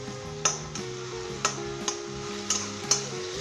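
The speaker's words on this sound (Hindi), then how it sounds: "चलिए दोस्तों अब हम इसे मिक्स करते हैं।" Capsicum chilli chicken is stirred in a pan over high heat, with sharp metallic clinks of a spoon against the pan at an irregular pace over a low sizzle and a steady hum.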